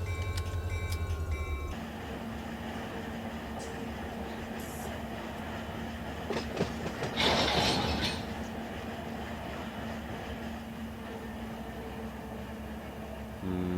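Freight train cars in Run8 Train Simulator roll along with a steady low rumble and rattle, punctuated by clanks and a louder burst of metallic banging midway, a sustained engine hum underneath throughout.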